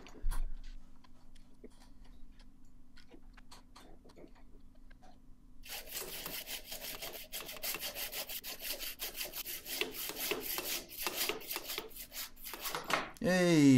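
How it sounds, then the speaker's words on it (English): A hacksaw cuts through a clamped hydraulic ram with rapid, rhythmic rasping strokes that start partway through and grow louder, after quieter handling and scraping at close range. "try and clamp it so I can get a proper push on it with the hacksaw"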